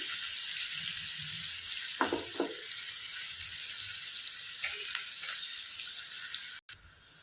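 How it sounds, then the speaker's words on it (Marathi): An onion frying in a pan for a Bengali-style vaam fish curry, a soft, fairly faint steady sizzle with a few light stirring scrapes. "आता मी यात एक कांदा जो आपण कापून घेतला तो घालून तो कांदा फ्राय करून घेऊ"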